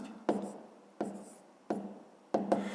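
Chalk or marker writing out a math equation for a fifth-grade lesson: four distinct taps and scratchy strokes in an irregular rhythm, close and clear, with quiet room tone between them.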